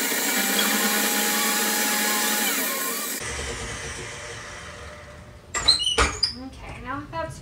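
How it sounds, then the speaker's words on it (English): An original Hobart-built KitchenAid stand mixer creams Christmas cake batter on high with a steady, droning motor whir for about three seconds, then cuts out, followed by clattering and a voice. "This KitchenAid mixer is an original Hobart before Whirlpool bought out KitchenAid"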